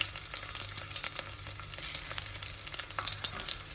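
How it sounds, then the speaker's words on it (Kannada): Dry and green chillies with crushed garlic frying in hot oil, a dense, continuous close sizzle with light scraping stirs throughout and no voices. "ಚೆನ್ನಾಗಿ ಫ್ರೈ ಆಗಲಿ, ಸ್ವಲ್ಪ ಹಸಿ ವಾಸನೆ ಹೋಗೋವರೆಗೂ"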